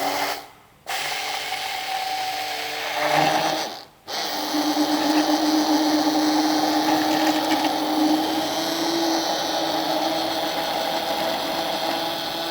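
An electric blender whirs steadily as it mixes a coffee powder ice cream mixture, a loud motor drone that cuts out twice briefly near the start before running on without pause.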